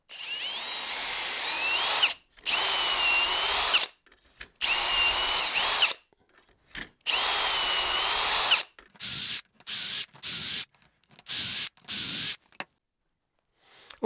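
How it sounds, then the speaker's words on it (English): A power drill boring holes in wood for a bench runs in several long bursts, then a quick series of short on-off triggers, close and loud with brief silences between. "I'm just going to go ahead and drill these holes"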